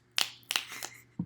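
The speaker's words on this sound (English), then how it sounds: "I applaud you, except I'm snapping because it's poetry." Finger snaps given in place of applause, a few quick, crisp snaps close by in a quiet room, followed by a soft low tap.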